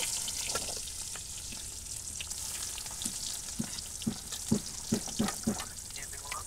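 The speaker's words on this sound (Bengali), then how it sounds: "পেঁয়াজ কুচি দিয়ে দিলাম," Chopped onion sizzles in hot oil in a kadai at an outdoor village cooking spot, a continuous crackling hiss that builds into a run of spatula scrapes and taps toward the end.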